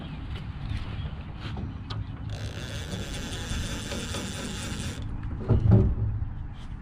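Rapid mechanical clicking of a fishing reel drag while a catfish is hooked on the Ohio River, a steady ratcheting buzz lasting a few seconds between lower rumbling handling noises.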